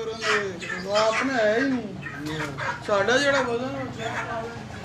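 Chickens clucking and squawking repeatedly at a roadside chicken sale point in Chowk Shaheeda, Haveli Lakha, busy overlapping calls close by with some talk in the background.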